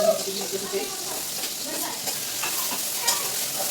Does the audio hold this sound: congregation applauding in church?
no